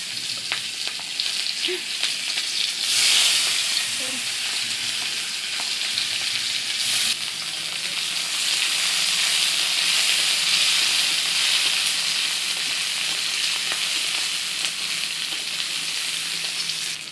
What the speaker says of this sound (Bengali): এখন আমি পেঁয়াজ লঙ্কা রসুন কড়াইয়ের মধ্যে দিব